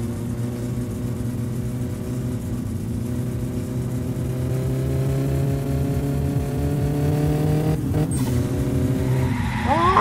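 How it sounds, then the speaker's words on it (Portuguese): A car in the video game My Summer Car accelerates with a steady droning engine whose pitch climbs gradually, loud and close, ending with a brief screech or clatter near the end; no one talks. "Deixa ele acelerar e vir, ó."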